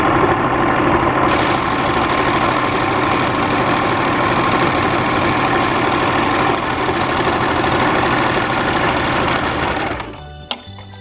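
Usha Janome Stitch Magic sewing machine running steadily and close, a dense continuous mechanical whir with rapid needle clatter for about ten seconds before stopping abruptly, followed by faint clicks.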